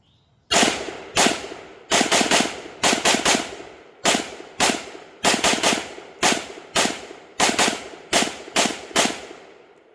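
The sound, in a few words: gunfire from the Sugar Weasel rifle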